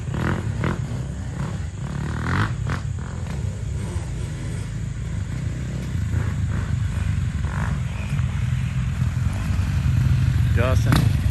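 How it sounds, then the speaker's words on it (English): Three brand new motorcycles ride past, their engines rumbling low and growling louder toward the end, with people talking over them. "All three on brand new motorcycles."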